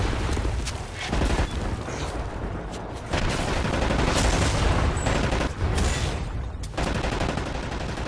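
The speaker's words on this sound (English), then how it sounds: "We'll lay down cover fire from here." Rapid bursts of automatic gunfire and heavy booms from the shooter game Wolfenstein: The New Order, loud and near, clattering in dense volleys with brief gaps and no talk over them.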